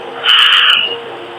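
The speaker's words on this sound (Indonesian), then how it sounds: "Burung, suara burung ya." A bird call rings out once, a bright, brief hooting note rising over a quiet, steady hiss, fairly close and clear.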